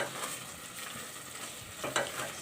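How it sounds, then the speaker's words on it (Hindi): Urad dal (dal mash) being stirred and roasted in a pan, a steady soft scraping and sizzling with a brief louder scrape near the end, no talking. "इसको अच्छी तरीके से हमें 1 से 2 मिनट भूनना है।"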